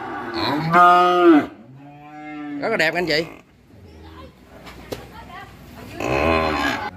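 Cattle lowing at a Vietnamese cattle farm selling beef breeds, with a loud, drawn-out moo near the start and another deep call toward the end, while someone talks over and between the calls.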